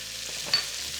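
Pork pieces frying in a pan for charro beans, giving a steady soft sizzle with a brief stirring scrape partway through, close and fairly quiet.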